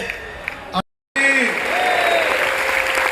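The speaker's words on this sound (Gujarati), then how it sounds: "સંતો અને હરિભક્તો એક વખત ઉભા થઈને નિત્ય સ્વરૂપ સ્વામીને 51 તાળીઓથી આપણે બધાએ વધાવીએ" A standing gathering of saints and devotees at a grand festival greets a swami with applause, brief dense clapping that cuts out and then resumes as sustained crowd clapping mixed with voices.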